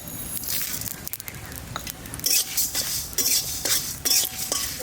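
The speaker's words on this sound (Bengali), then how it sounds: "সামান্য মেথি আর কালো জিরে একসঙ্গে দিয়ে দিচ্ছি" Fennel, fenugreek and nigella seeds are stirred in a pan for a village mango and jackfruit pickle, giving close, irregular scraping and clinking of a spoon against metal with light rattling of dry seeds.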